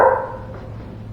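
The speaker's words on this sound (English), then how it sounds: "Shop Dog, shut up!" A shop dog gives a single sharp bark in a workshop, loud and close, followed by a fading tail.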